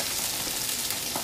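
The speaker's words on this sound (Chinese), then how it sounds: "翻面后再煎至三分钟就可以出锅了" A leftover rice pancake topped with sweet corn and scallions fries in a pan, giving a steady, close sizzle that fills the short moment without talk.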